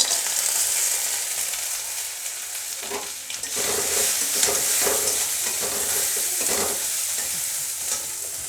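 Broad beans, potato and lentil dumplings sizzle steadily in a hot pan with ginger, turmeric and cumin, a loud continuous frying hiss broken by several scraping stirs of a spatula.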